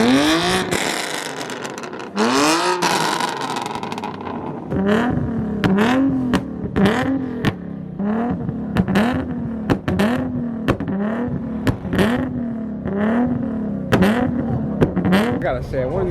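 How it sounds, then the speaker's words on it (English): Several car engines rev hard at a car meet in repeated bursts, rising and falling roars overlapping one another, loud and close, with a rhythmic pattern of blips throughout. "once one person starts revving, everybody gets it going."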